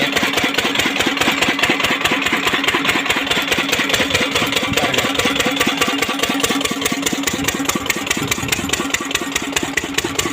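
A single-cylinder oil engine running a farm well pump runs steadily and loudly nearby, its rapid, even thumping continuing without a break.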